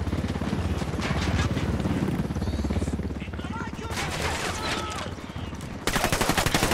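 Rapid gunfire bursts and a thudding helicopter rotor in a Ghost Recon Wildlands battle, dense and loud, with a brief shouted voice.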